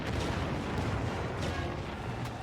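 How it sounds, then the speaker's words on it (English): Artillery barrage in a First World War Western Front battle game: a dense, continuous rumble of heavy gunfire with repeated deep booms and sharp reports, close and loud, no voices. "Commencez le barrage."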